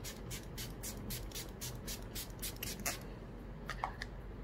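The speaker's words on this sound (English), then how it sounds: "So I'm going to spray generous quantity of this on my face now after the foundation." Rapid bursts of a pump spray hissing close by, about a dozen quick spritzes in a row followed by light rustling.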